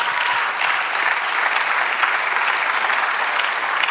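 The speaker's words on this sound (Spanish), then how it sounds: "Dale un aplauso al Señor." A church congregation bursts into full, steady applause for the Lord during a sermon, the clapping loud and continuous with no voices.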